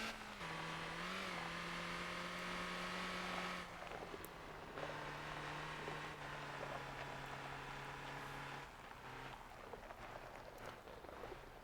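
A car engine in the Motor Town racing game revs and holds steady harmonic tones as it races a gravel event track, the pitch shifting and dropping between gears, loud and continuous throughout.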